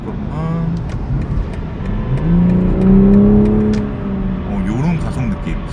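A BMW M440i coupe accelerates smoothly from inside the cabin, its engine note rising and sweeping upward in steady pitch over several seconds, with a person talking over the hum.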